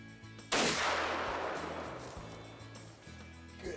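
A single loud rifle shot cracks out at a buck during a food-plot hunt, then rolls away in a long fading echo over a low, steady background hum.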